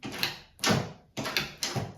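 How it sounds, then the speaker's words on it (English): A doorknob latch on a newly installed modern doorknob clicks and slides back and forth several times in quick succession, the mechanism near and fairly loud. "that latch moves back and forth when I pull on this"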